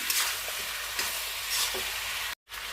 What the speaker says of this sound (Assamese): লৰাই লৰাই ভাজি ল'ম।